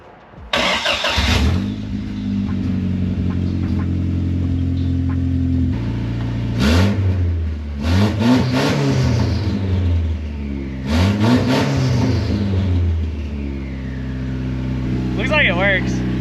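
Toyota Supra fitted with a custom 3-inch exhaust starts up and idles loudly, then revs hard twice with rising and falling sweeps before settling back to a steady idle, close to the microphone.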